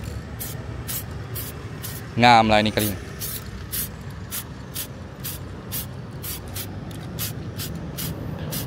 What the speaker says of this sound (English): Kita spray cat testing tu.